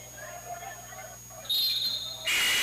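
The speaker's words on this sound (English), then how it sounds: "Whistle and a foul here." Shrill referee whistle blasts cut through a basketball game in a college men's gym, two short piercing toots over faint crowd murmur.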